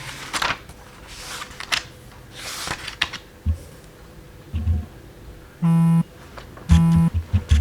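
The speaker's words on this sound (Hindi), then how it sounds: "ओह, क्रश का मैसेज आया।" Phone message notification beeps, two short bright electronic tones sounding close and loud after a stretch of rustling and handling noises.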